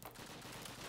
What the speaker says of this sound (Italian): sento degli spari, ma non capisco da dove vengano